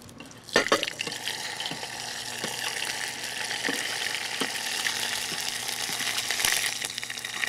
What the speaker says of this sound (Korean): 치즈가 이러니까 너무 많이 튀기시면 금방 녹으실 수 있어요